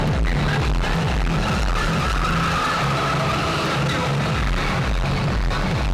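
Stunt motorcycles perform on the Buddh International Circuit race track, a continuous loud roar of engines with skidding tyres and revving, heard from close by.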